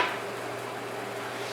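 Ground meat sizzling in a hot pan, a steady broadband hiss that holds at an even level through the whole short stretch, close and continuous with no talk over it.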